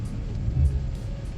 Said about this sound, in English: Boom, I can feel the truck went into gear. And we're gonna roll back.